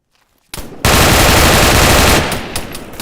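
After a brief silence, a weapon in the game Arma 3 fires a rapid, loud, continuous burst that tapers off into scattered shots.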